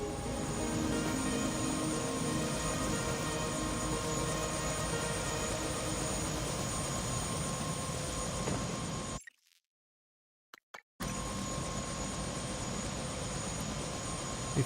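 A steady whirring helicopter drone in the video game Prey fills the scene, cutting to silence for about two seconds before the same constant rotor noise resumes.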